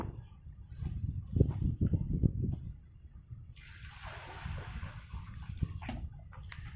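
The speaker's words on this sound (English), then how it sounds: "So the next step is water. I'm going to pour" Water is poured from a container into cement and crusher dust in a wheelbarrow, giving an irregular splashing trickle with a brighter hissing pour toward the end, moderately close and with no talk.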